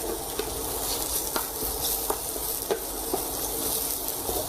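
Mushrooms, about 50 grams, are stir-fried in a pan for a steak mushroom sauce. A steady sizzle runs throughout, broken by regular clicks and scrapes from stirring about once a second, with no voices.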